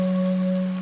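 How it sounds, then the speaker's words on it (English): Steady rain falls in a jungle after a night thunderstorm, a soft continuous patter with two sustained tonal hums running alongside, no voices. "it's still thundering and it's still raining"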